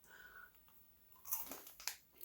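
Crunchy Italian taralli snacks are bitten and chewed close to the mic in two or three short, dry crunches after a quiet start, with no talk.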